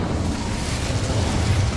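An Incendio fire spell blazing in Hogwarts Legacy, a dense roaring whoosh of flame with a deep rumbling low end, sustained and loud throughout with no talking over it.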